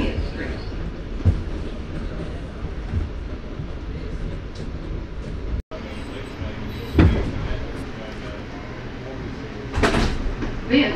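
A New York City subway 5 train rumbles steadily along the tracks with rattling and clanking, and occasional sharp metallic squeals and knocks rise above the din.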